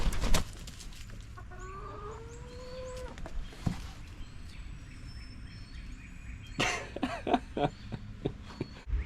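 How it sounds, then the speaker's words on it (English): Chickens gathered nearby on a property, scattered soft clucks and calls at moderate distance over faint background noise, with a few knocks and thuds mixed in. "All the chickens gathered up over here ready to watch us work."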